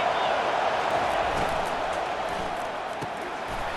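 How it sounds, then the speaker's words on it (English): Stadium crowd in the EA Sports College Football 25 video game, a steady broad roar of cheering fans that holds at an even level throughout. "This crowd knows this defense needs them right now."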